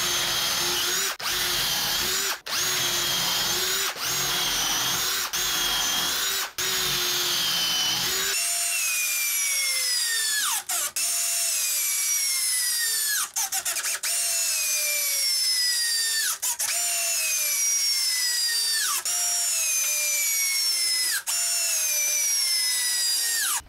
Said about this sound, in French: je vais venir sécuriser le bois là directement avec des grandes vis